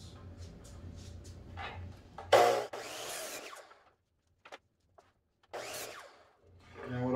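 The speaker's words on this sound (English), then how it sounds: "We're going to cut the chip trays down to 10 inches." A power saw cuts through wooden chip trays for a homemade craps table in a workshop, with short loud bursts of cutting separated by quiet gaps and a low motor hum in between.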